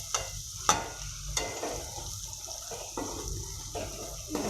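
Okra and onion being stirred together in a pan, with a few sharp spoon scrapes against the metal over a soft, steady sizzle and no voices.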